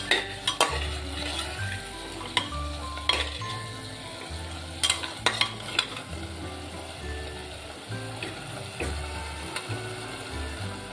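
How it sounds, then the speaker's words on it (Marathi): Chicken sautéing in a pot for an alani chicken soup, with irregular metal spoon scrapes and clinks against the pot over a low hum, close and fairly quiet, no talk. "चिकन चांगलं परतून घेतोय"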